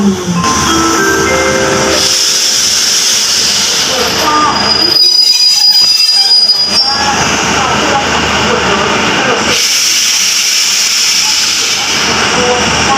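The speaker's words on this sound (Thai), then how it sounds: "ขบวนรถด่วนพิเศษเลขที่สอง หนึ่ง ต้นทางจากสถานี กรุงเทพอภิวัตรปลายทางสถานี" A Daewoo diesel railcar running as a special express train pulls into a station. Wheels squeal loudly and steadily, with a brief pause in the middle, and the hiss of brakes comes near the end. It is close and loud.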